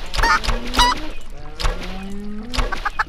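Minecraft chickens cluck in a few short, bright bursts spread across the moment, fairly close and clear, with a low steady in-game tone underneath.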